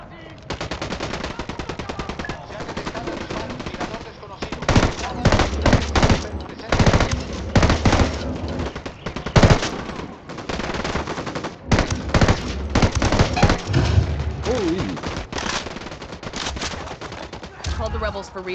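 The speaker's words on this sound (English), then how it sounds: "Opening fire on these fuckers." Sustained video-game gunfire in Ghost Recon Wildlands, with rapid automatic bursts and single shots crackling loudly across the clip, dense volleys in the middle, and some voices faintly underneath.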